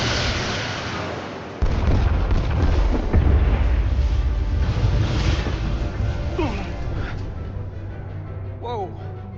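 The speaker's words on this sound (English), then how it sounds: "Firing torpedoes." Torpedoes fire and explode during a space battle in the video game Star Trek Resurgence, a heavy rumbling blast with sustained roar and swooping electronic tones, mixed with voices speaking.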